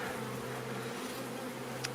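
Honeybees buzz around an opened hive, a dense steady hum close by with no pauses.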